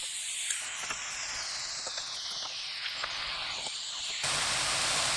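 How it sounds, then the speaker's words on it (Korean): Kohlrabi stir-frying in perilla oil in a pan over high heat, a steady close sizzling hiss with faint crackles that grows louder and fuller near the end, no speech. "센 불로 켜주세요. 3분 30초 볶습니다."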